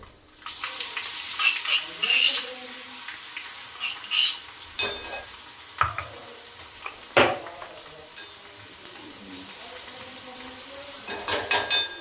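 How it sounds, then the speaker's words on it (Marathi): Mustard seeds, cumin and crushed garlic fry in hot oil, crackling and hissing with irregular scrapes and clinks of a spoon against the pan, close and without voices. "तेल छान टाकलेलं आहे त्यामध्ये टाकते एक चमचा मोहरी एक चमचा जिरा"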